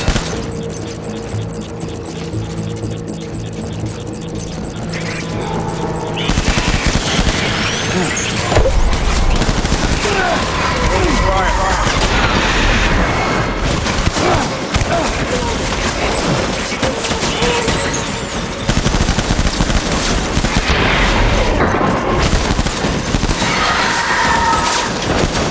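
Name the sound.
gunfire in the video game Death Stranding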